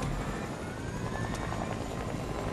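Helicopter in a Fortnite Battle Royale match, a steady whirring rotor and engine drone holding at an even level throughout, fairly close, with no talk over it.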